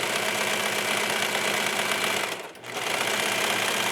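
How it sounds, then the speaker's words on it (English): A sewing machine runs steadily, stitching mesh fabric for a yoga top with a continuous close, fast mechanical hum and rattle that dips briefly as it pauses mid-seam, then resumes. "You want to just let the machine take the fabric in."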